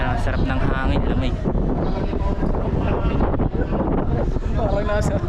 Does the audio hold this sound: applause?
no